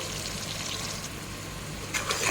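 Spice powders fry for mutton rice, with turmeric, coriander, pepper, cumin and lemon powder in a pan. A soft continuous sizzle runs throughout, with a slightly louder scraping burst toward the end.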